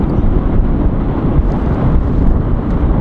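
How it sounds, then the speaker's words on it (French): Heavy wind buffets the microphone in a constant loud, low rumble with gusty fluctuations throughout; no voices. "Là, par exemple, aujourd'hui, il y a un vent de fou"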